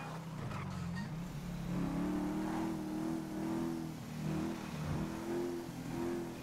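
Big motorcycle engine with 140 cubic inches revving in GTA V, a steady mid-pitched drone that rises and dips in waves, close and loud throughout, with no talk over it.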